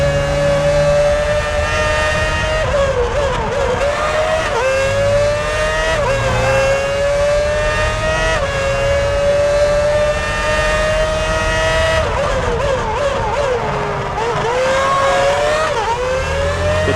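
Formula 1 race car engines from the F1 2006 video game, a loud continuous high-pitched whine that rises and falls through gear changes as cars race closely, with no talking.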